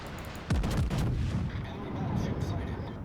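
American battleship secondary guns firing in World of Warships, a series of heavy booming shots with deep rumbling echoes, loud and close, overlapping into a continuous roll.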